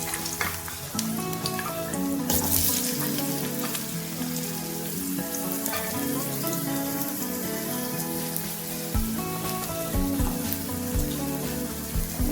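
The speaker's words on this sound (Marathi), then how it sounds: "त्याच्यासाठी बटाटा भाजायला टाकू." Potato pieces fry in a pan for a sabudana fasting dish, giving a steady, close crackling sizzle throughout, with light stirring and scraping against the pan.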